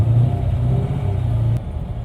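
A car engine pulls steadily at high RPM in the upper range, a dense low rumble and drone that holds level for about two seconds with a slight dip near the end.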